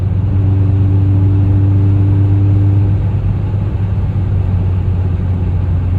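Car fitted with an Evil Energy aftermarket exhaust cruising at highway speed around 3,000 RPM, giving a steady low droning hum with a constant tonal rumble that eases slightly after the first few seconds.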